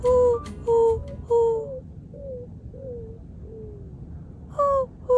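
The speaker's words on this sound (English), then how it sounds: "What kind of bird is that?" A bird calls outdoors near a lake at Lake Havasu, giving a series of repeated hooting, cooing notes at a steady rhythm, fairly close and clear over a soft background hum, with a pause before another loud pair of calls.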